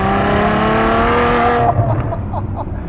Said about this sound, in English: It's a terrific intake growl, and then just this snarl through the exhaust pipes.